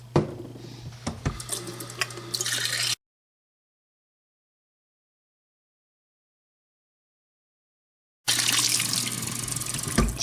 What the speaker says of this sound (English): And also clean your airlock, that's important. And just use a little bit of soap with that.